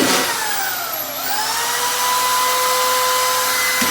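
A corded DeWalt drywall screw gun whines loudly and steadily as it drives screws into sheetrock, its motor pitch dipping and then climbing again, close up and with no talk.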